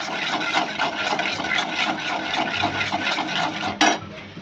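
Spices with turmeric sizzle steadily in a hot pan with a constant hiss, broken by light scraping and a sharper clatter of a utensil near the end.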